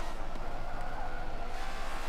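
Jaguar XK GT3 race car in Forza 7, a continuous gritty engine drone at steady volume, with a brief tire skid mixed in.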